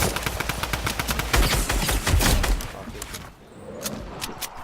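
Rapid automatic gunfire in a video game, dense bursts of close, loud shots that rattle almost continuously before easing into sparser, more distant cracks near the end, with no voices.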